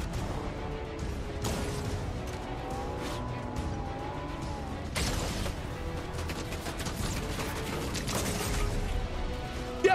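A Lamborghini sports car in the Fortnite video game drives continuously with a steady engine roar, broken by scattered thumps and crash-like bursts, loud and close with no talking.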